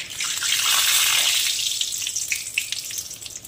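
Dried red chilli, bay leaf, cardamom and cumin crackle and hiss in hot oil for a tempering. A loud, broad sizzle bursts up at first and then settles into a fainter, steady crackle.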